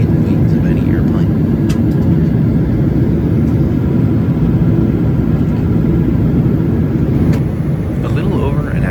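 A United Airlines Boeing 777-300ER in flight from San Francisco to Newark, heard from inside the Premium Plus cabin as a steady, loud, low engine and airflow roar that holds unbroken for the whole stretch.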